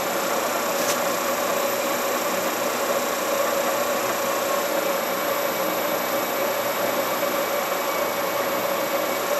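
A wood lathe spins a mesquite burl bowl blank from the Arizona desert at around 600 rpm, vibrating slightly. It gives a loud, steady, unbroken mechanical hum with a faint whine, and no voices.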